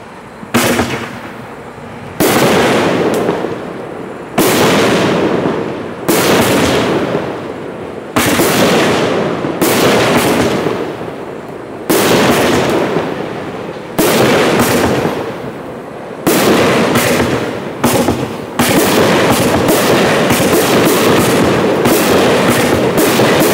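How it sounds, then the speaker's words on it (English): A Caribbean Palms 500 gram fireworks cake from Black Hat Fireworks fires a series of loud outdoor shots, heavy booming bursts in irregular bunches with brief gaps, ending in a rapid dense finale. "Item number 27 is Caribbean Palms, 500 grams from Black Hat Fireworks."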